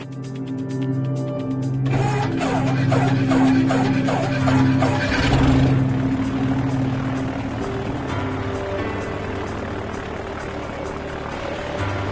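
A light aircraft engine drones loudly and continuously as the plane enters a spin with full right rudder during a training flight, the tone shifting and wavering midway before settling into a steady roar.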